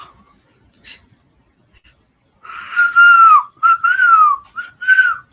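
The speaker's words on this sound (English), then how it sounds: "I really do love whistling" A person whistles a bright, wavering tune in several short phrases after a mostly quiet start, close and fairly loud.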